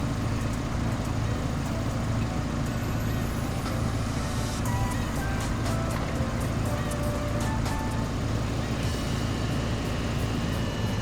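A steady boat engine drones throughout in the PS2 game Deep Water, a continuous loud motor hum with faint higher tonal blips and effects layered over it.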